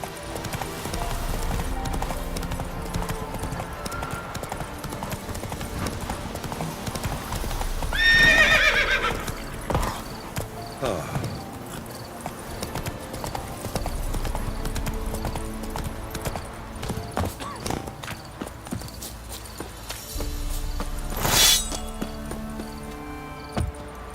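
Horse hooves clip-clop steadily while riding in The Witcher, with a loud whinny near the middle and another near the end, continuous and close.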